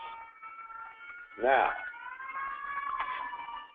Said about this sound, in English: there's an ambulance in the background.